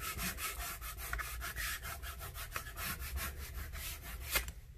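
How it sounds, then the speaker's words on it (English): A plastic scraper rubs tape down onto the paper of a handmade autograph memory book, giving a steady series of close, dry scraping strokes in a quick back-and-forth rhythm with no talk. "I'm using my scraper just to make sure that tape, rather, sticks well."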